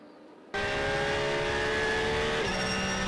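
Racing cars at the 4 Hours of Barcelona endurance race, including the Vector Sport entry, roar past loudly after a brief quiet start, a sustained high engine drone with a pitch shift near the end as the cars pass.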